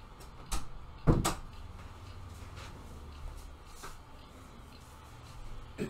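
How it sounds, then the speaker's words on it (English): A door is pushed shut indoors with one sharp close thump, a smaller knock just before it, and a few faint creaks and taps in a quiet room afterward. "Just shutting this door."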